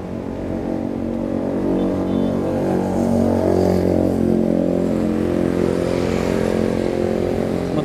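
A small Yamaha Mio motor scooter engine revs loudly nearby, a buzzing, throaty drone that swells and holds steady throughout.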